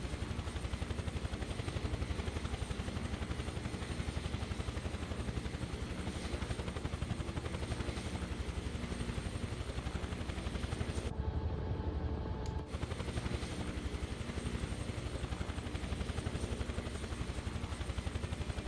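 Steady, continuous rotor drone of a hovering helicopter in a flight simulator game, a dense rapid chopping texture running throughout at constant level, with a brief dropout near the end.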